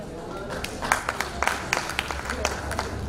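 Scattered clapping from an audience at a school felicitation ceremony, a loose patter of individual claps over a murmuring hall, moderately loud and uneven in rhythm.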